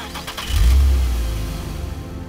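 A student-built diesel SUV engine revs up sharply, a deep low rumble swelling then settling into a steady idle, close and loud with no voices.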